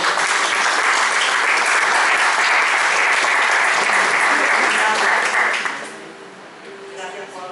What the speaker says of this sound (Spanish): Un gran aplauso para él.